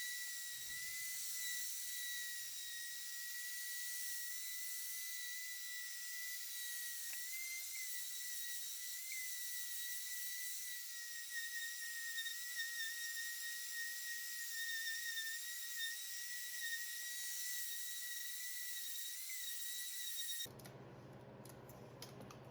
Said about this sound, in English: Since this will be the final sanding, I work my way up through the grits